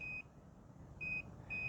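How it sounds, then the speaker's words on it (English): A vehicle display's turn signal indicator gives three short, even electronic beeps, each brief tone separated by a pause, heard over a faint low background hum. "It does come with turn signals over here, front and rear, and it will beep and also show you on display"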